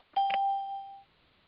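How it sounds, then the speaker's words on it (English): A conference call join chime rings out once as a clear, steady electronic tone that holds for about a second before cutting off, alone against a quiet line. "The chimes and the dings coming in."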